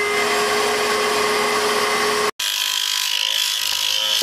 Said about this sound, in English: I used a Dremel tool with a cut-off wheel to cut out the shape of the hard plastic